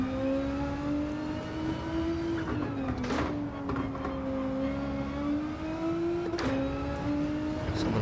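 A BMW M3 in Gran Turismo 7 drones with a steady engine tone that rises and dips with throttle changes, sustained and clear throughout, with no voices.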